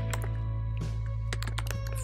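Keystrokes on a computer keyboard while writing a React app's code: a short run of scattered, quick taps over a steady low electrical hum, close and moderately quiet.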